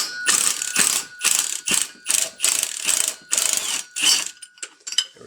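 Ratchet wrench fitted with a swivel turning a transmission bolt on a BMW E36 during automatic transmission removal, heard as repeated close, loud bursts of rapid pawl clicking with short pauses between strokes.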